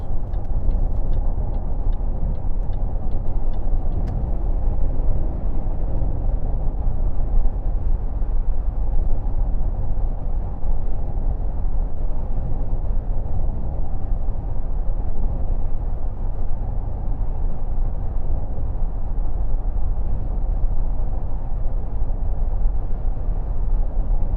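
A Range Rover Sport Black Edition cruises at a steady 70 on cruise control, with a constant low rumble of road and engine noise from inside the cabin, smooth and unbroken throughout.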